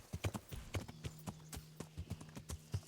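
Hooves of a horse clip-clop in the video game Kingdom Come: Deliverance, a quick uneven trot of sharp close knocks, quiet overall with a faint steady tone behind them.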